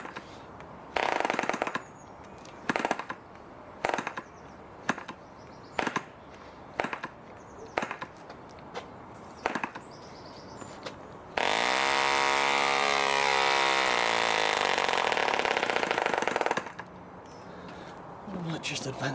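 A 1945 Rocket Victor 46 spark-ignition model engine fires in sharp, irregular pops, then catches and runs as a loud, steady buzzing roar for several seconds before cutting back to sputtering bursts.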